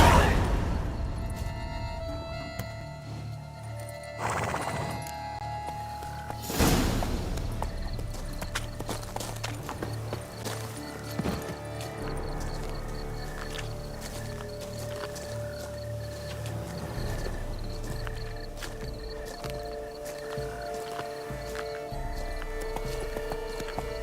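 Hooves of a horse clip-clop steadily at a trot in a video game, a rhythmic patter under layered game music and ambient tones, with a few louder thumps early on.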